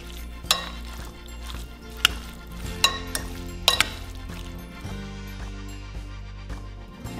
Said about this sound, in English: I am tossing all ingredients together